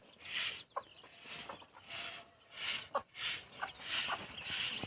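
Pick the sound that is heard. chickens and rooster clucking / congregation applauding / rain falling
chickens and rooster clucking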